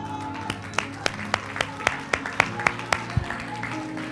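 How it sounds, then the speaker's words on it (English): Sharp, evenly spaced claps from a church congregation during a sermon, a steady rhythmic beat of roughly four per second, fairly close, with some crowd murmur beneath. "Give him a hand of applause."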